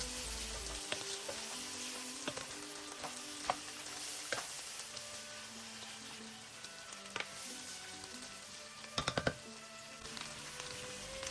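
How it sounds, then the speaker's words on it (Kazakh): Quiet, steady sizzle of dry macaroni frying in a pan, dotted with faint clicks and a few sharp clinks of stirring. "Енді макарондарды салып 5-7 минуттай қуырамыз."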